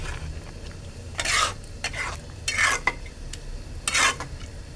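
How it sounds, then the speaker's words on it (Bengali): A spoon stirs spinach and paneer in a hot pan, giving several scraping sweeps against the metal over a faint, steady sizzle, close and without talk. "ভালো করে মিক্স করে দেব পনিরের সাথে পালকটাকে।"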